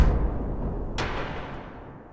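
A deep, rumbling synthesized explosion boom in LMMS that decays slowly, with a second sharp hit partway through, used like a heavy kick drum.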